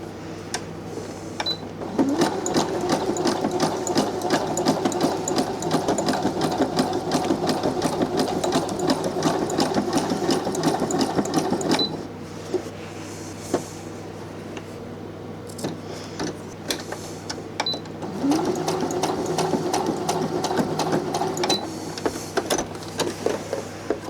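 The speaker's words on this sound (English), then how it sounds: "So next I need my regular sewing machine." A Brother Innovis A150 sewing machine stitches in steady rapid bursts, running for stretches, pausing, then starting again, loud and close with no talking.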